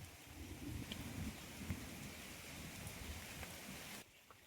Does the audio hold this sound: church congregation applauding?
no